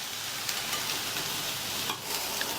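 Beans and carrot poriyal cooking in a pan on a medium flame, a soft continuous sizzle with a few light stirring scrapes, fairly quiet and close, no voices.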